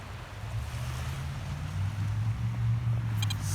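Waves wash onto the beach at Destin, Florida, as a steady low rumble of surf with wind noise, moderately quiet and continuous, with a faint brief chirp near the end and no talking.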